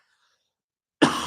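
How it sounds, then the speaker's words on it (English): After a moment of silence, a single sharp cough bursts out close and loud. "I just have a cough all of a sudden."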